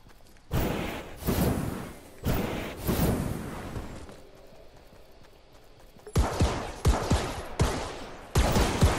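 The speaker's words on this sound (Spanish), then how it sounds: "Escucho tiros" Gunfire in a video game, several loud, sharp bursts in quick rhythmic succession, then a short lull before more rapid shots close by.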